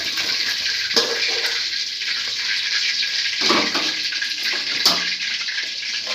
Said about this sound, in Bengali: তার আগে এই চিকেন পকোড়াগুলো ভাজলো।